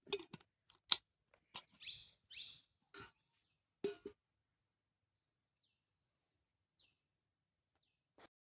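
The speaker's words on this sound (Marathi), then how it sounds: "पक्ष्यांचा आवाज फक्त." Birds chirp in sharp, scattered bursts in a dense forest between Badvah and Pipri, crisp calls up close at first, then a few faint distant tweets in near silence.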